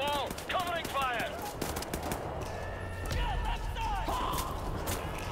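Covering gunfire in Wolfenstein: The New Order, rapid bursts of shots crackling under shouting voices and other battle noise, with a deeper rumble joining partway through.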